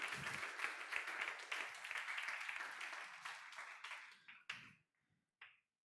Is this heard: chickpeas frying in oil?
no